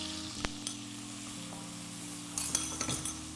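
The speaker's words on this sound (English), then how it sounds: "Right, give that a good stir" Chopped onion sizzles softly in melted butter in a pan, with a few knocks and scrapes as a wooden spoon stirs it and the frying grows a little louder near the end.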